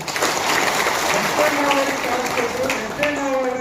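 Clapping from an audience at a closing ceremony for a police-run civilian firearms training course. A voice speaks over the steady applause.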